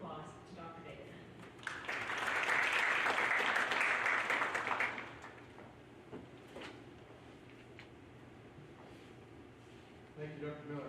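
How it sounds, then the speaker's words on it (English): Audience applause for Dr. David Hunton builds to a sustained, fairly loud burst for a few seconds, then fades into scattered claps and room noise with faint voices. "I'd like you to give a warm round of applause to Dr. David Hunton."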